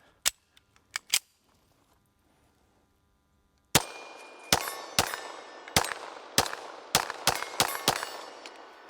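A Savage 1911 pistol fires 115 grain rounds: a few sharp shots at the start, a pause, then a rapid string of about eight loud, crisp reports with ringing clangs of steel targets.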